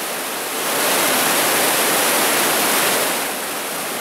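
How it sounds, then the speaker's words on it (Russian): Underground river water cascading down a drop chamber in a brick sewer collector, a steady broadband roar that swells louder in the middle and eases slightly at the end, with no voices. "здесь же находится интересная перепадная камера, где Нищенка каскадом спускается ниже"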